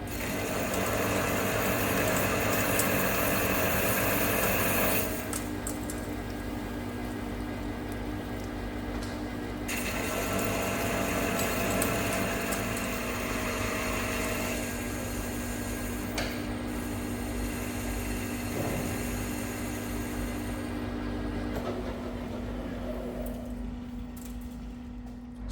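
A metal lathe machines a heavy-duty tool post grinder mount, a continuous mechanical whir and hum with a steady tonal drone, shifting in intensity over time with small rattles and scraping cuts.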